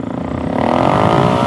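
Suzuki DRZ 470 motorcycle revving hard under acceleration, engine pitch climbing quickly and loudly at close range in one brief rising pull.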